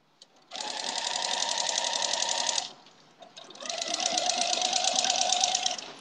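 A sewing machine stitches a rag quilt in two loud, close bursts of about two seconds each, separated by a short pause, with no speech.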